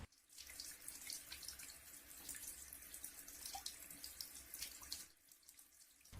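A tap runs steadily into a sink while hands are rinsed during wudu, a soft continuous hiss and splash with small shifts as the hands move under the flow, then a brief stop near the end.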